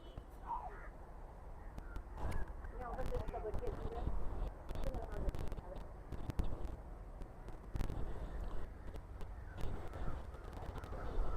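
A crow caws several times outdoors, the calls rising over steady background noise while people talk nearby.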